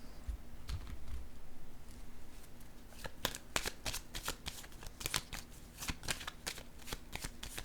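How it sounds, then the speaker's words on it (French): Cards are set down and shuffled on a table during a French tarot reading, with soft close slaps and riffles in a quick uneven run. "Je vais déposer une carte ici."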